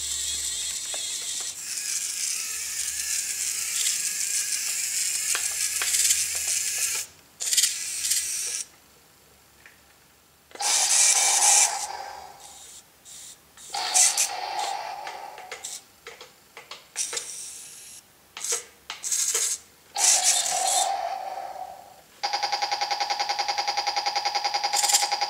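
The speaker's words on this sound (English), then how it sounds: "Man gun shoot. Machine gun shoot." Rapid ratcheting machine-gun bursts from a 1/72 Challenger RC infrared battle tank, several loud mechanical clattering bursts of a few seconds each, separated by short pauses.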